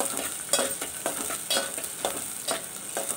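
Onions fry in hot oil for a spicy mutton dish, a steady close sizzle with rhythmic spatula strokes scraping through the pan roughly every half second, no voices.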